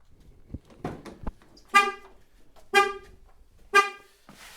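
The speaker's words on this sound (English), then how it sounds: "How we're going to stop the alarm from going off is we need to start the vehicle." A Chevy Trax alarm sounds its horn in three evenly spaced loud honks, each about a second apart, after a few soft clicks and thumps nearby.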